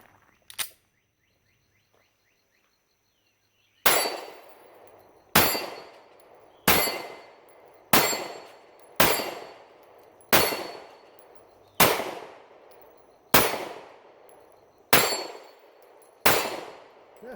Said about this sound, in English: Let's go ahead and put a few more rounds through, reset my plates here.